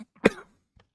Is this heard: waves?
no